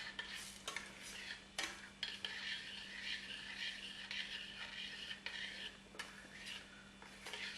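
A spoon stirring oil into rice and water in a pot, soft scraping and scattered light clinks against the pot with a faint steady hum underneath, quiet and close.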